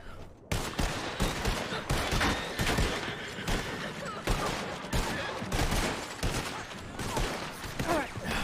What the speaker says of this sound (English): you don't gotta shoot around me